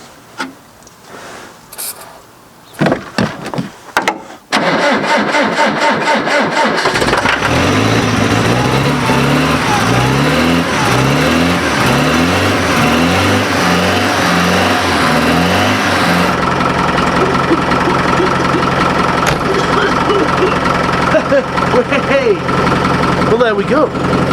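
A Land Rover Discovery 1 on a cold day, dosed with Easy Start: a few sharp clanks and cranking, then the engine catches and settles into a loud, steady, rough idle close by for the rest.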